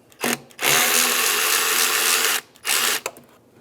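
A power tool whirs close by while loosening a 10 mm band clamp on the intake tube of a Mazda CX-9, running in one long buzzing burst with short starts and stops around it.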